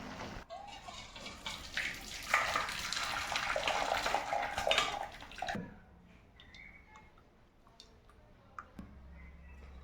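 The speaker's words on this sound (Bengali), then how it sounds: "গাঁদা ফুলের পাপড়িগুলো সিদ্ধ হয়ে গেছে এবং কি সুন্দর একটা দেখুন কালার এসছে হলুদ। এবার আমি ছেঁকে নেব।" Boiled marigold petal liquid strained for yellow dye, water pouring and splashing steadily for several seconds, then stopping, leaving faint drips and small clicks in a quiet room.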